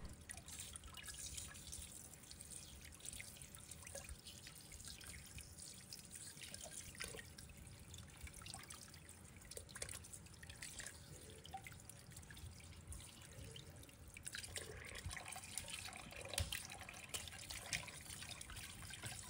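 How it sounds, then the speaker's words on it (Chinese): Running tap water rinses a wild yellow croaker fish in a sink, a faint, continuous trickle and splatter with small drips throughout. "然后用流动水反复冲洗，特别是鱼腹内侧和鱼头部位"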